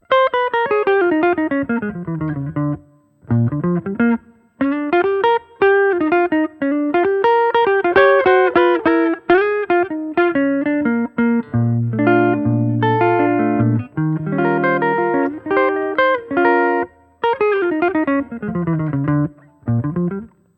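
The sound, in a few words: guitar with hall reverb effect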